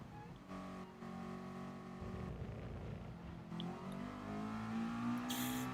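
A race car engine in Gran Turismo Sport pulls hard under full throttle, its tone climbing steadily through the revs over several seconds, with a brief high hiss near the end.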